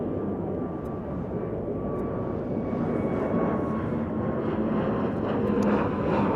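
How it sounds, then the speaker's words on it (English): An American Airlines jet landing at Chicago O'Hare airport gives a steady, broad engine roar with a faint high whine, holding constant and fairly loud throughout with wind noise mixed in. "American Airlines Flight 1682 has landed."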